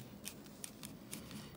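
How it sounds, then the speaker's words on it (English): Dull dissection scissors snip at a frog's skin, about five quick, faint crisp cuts in a short burst. "And these scissors are not doing too hot."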